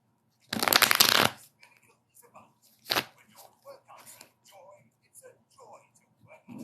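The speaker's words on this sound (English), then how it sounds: "My cards don't want to shuffle." Cards riffle-shuffled by hand, one long loud burst of crisp fluttering followed by a short second riffle, with quiet talk and soft handling noises between.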